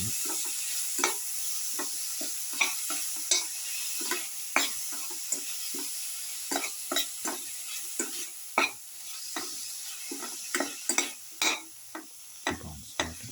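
Salted tomato pieces being stirred and crushed in a sizzling pan, with repeated short scraping strokes and soft clicks over a steady frying hiss, close and moderately loud, no talking.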